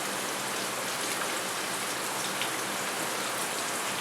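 Pork wontons fry in a pot of hot oil, giving a dense, steady crackling sizzle that stays even and close throughout, with no voices.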